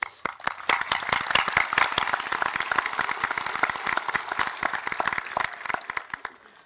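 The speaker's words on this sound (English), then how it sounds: "please join me in giving those individuals a round of applause for their diligence" A large audience gives a long, steady round of applause at the Forest Lake Area High School 2022 graduation ceremony, dense clapping that fills the hall and gradually thins out toward the end.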